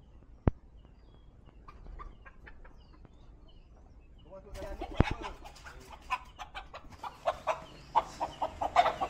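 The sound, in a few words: chickens clucking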